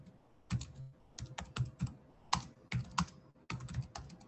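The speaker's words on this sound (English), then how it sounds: "Someone's very angrily punching their keyboard." A computer keyboard is hammered hard, with sharp irregular key strikes in uneven bursts and short pauses, close and clear with no talking.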